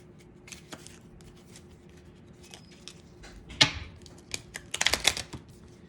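Small tarot cards being shuffled, faint crisp riffling and tapping in scattered bursts that grow busier and louder toward the end, with no voice over them.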